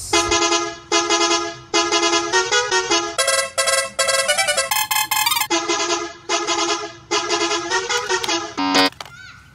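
A toy bus sounds a loud horn, honking in a rapid series of short bright toots and longer blasts that repeat in bursts, close and with no talking.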